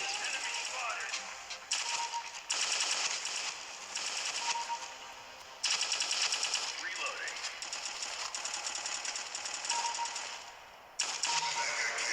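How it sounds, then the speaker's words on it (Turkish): Rapid automatic gunfire from the mobile shooter Counter Terrorist: Critical Strike, loud repeated bursts separated by brief pauses over continuous game background noise. "Havuzun içinde beni vurdu ya"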